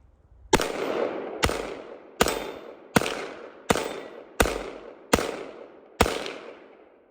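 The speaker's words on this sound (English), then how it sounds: "actually going to go ahead and shoot those 8 right now." FN Five-seveN pistol firing 5.7x28 rounds, eight sharp, loud shots spaced roughly a second apart, each with a short ringing decay, and no talking.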